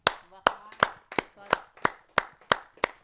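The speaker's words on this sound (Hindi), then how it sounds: "स्वागत करते हैं आप सबकी जोरदार तालियों से अपने बहुत ही वरिष्ठ कवि कमोडर वीएस बवेले साहब का" An audience at a poetry gathering gives rhythmic applause welcoming a senior poet, steady evenly spaced claps heard alongside a speaking voice.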